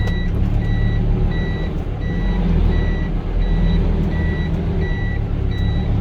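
A truck backing up sounds a steady series of reversing beeps in a regular rhythm, loud and close over a constant low engine rumble, with no talking.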